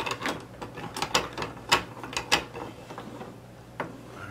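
A vise being cranked down on a willow stick, a close run of ratcheting clicks and mechanical knocks in an uneven rhythm, with a couple of sharper clunks.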